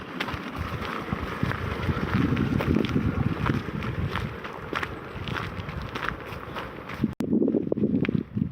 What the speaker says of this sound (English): Nice calm morning, just a little bit breezy.